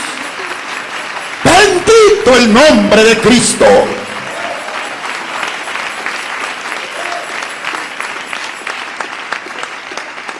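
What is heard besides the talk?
congregation applauding in praise of Jesus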